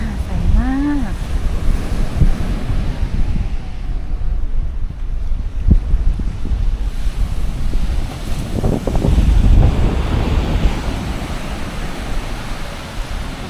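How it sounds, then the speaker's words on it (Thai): Strong ocean waves break on a beach in Bali, rumbling and washing in loud surges amid gusty wind buffeting the microphone, with a brief chirp early on and people talking faintly. "ก็คลื่นแรงอยู่นะ"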